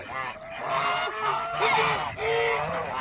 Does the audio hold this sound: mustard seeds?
no